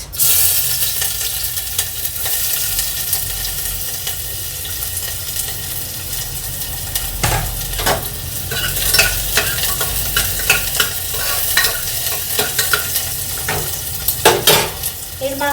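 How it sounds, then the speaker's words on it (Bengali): Onions fry in hot oil in a pan with a loud continuous sizzle, broken by repeated stirring scrapes and clinks of a utensil against the pan that grow busier toward the end, with no talking. "তেলটা গরম হয়ে গেছে এবার দিয়ে দেবো পেঁয়াজ"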